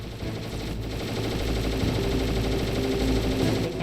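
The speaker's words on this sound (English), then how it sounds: "He's gonna shoot me." Enemy gunfire in a video game rattles as sustained rapid automatic bursts, loud and dense for nearly four seconds with a continuous low rumble underneath and no talking.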